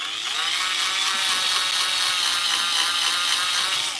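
Power drill boring out a car exhaust, a continuous bright, high-pitched grinding whine with rattly metallic texture, close and steady throughout with no talking.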